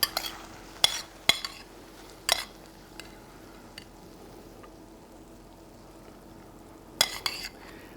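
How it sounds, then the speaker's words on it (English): A spoon clinks against a plate while sherry-glazed onions are spooned over seared salmon, a few sharp scattered taps and scrapes separated by quiet pauses, close and fairly soft. "I'm going to spoon some of these onions over the top"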